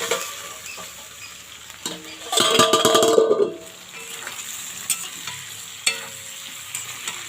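Snake gourd (chichinga) frying in a pan over raised heat crackles and sizzles close up, with a louder burst of spatula scraping and clatter in the middle and lighter taps afterward, no voices.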